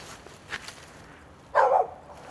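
A group of dogs barks on a hillside hiking trail in the Cameron Highlands forest, with a faint yelp early and one louder, closer burst near the end over quiet outdoor background.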